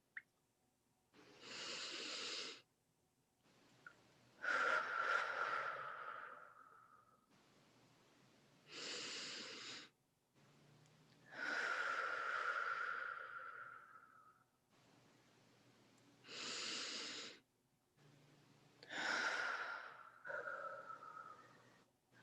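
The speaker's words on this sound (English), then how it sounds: "we're going to start by taking 3 deep breaths" Slow, deep breaths taken during a guided meditation come close to the mic, long inhales and exhales alternating in roughly six airy, hissing swells separated by short silences.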